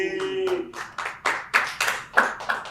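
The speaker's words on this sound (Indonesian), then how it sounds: "Tepuk tangan nih. Tepuk tangan. Tepuk tangan." Hands clapping during talk about a One Pride fight bout, a series of about eight sharp, fairly close claps in an uneven rhythm, with a brief voice at the start.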